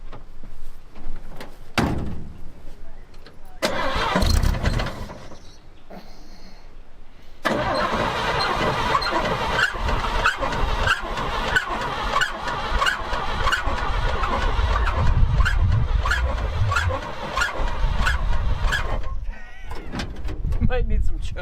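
A 1952 Chevrolet engine being started: a couple of short cranking attempts and clunks, then the engine catches at about seven seconds and runs loud and steady, with a rough idle through the rest.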